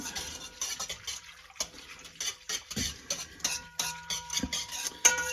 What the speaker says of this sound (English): we are going to whisk this together until